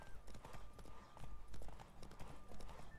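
Horse hooves galloping in the video game The Witcher 3: Wild Hunt, a steady fast clip-clop rhythm running throughout alongside game sound effects, with a soft voice faintly present.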